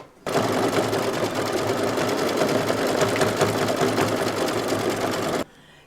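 Embroidery machine stitching the eyes of an owl design on a Halloween placemat block, a steady, loud, fast mechanical whir and needle rattle running continuously before stopping abruptly near the end.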